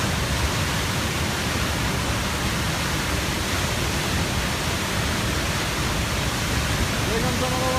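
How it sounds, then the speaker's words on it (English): A waterfall roars as a dense, steady broadband rush that stays constant and loud throughout, heard up close. "coming to the waterfall"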